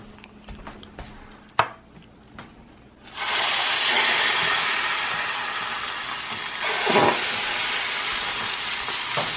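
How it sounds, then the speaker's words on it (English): Trout fillets frying in a pan, where a few quiet clicks and knocks give way to a sudden loud, steady hiss of sizzling fish that continues to the end. "I'm gonna lay them in my pan and I'm gonna cook them for about 5 minutes on each side"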